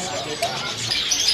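Birds at a kiosk in a bird market give brief chirps and tweets under and between people talking, with busy market background noise.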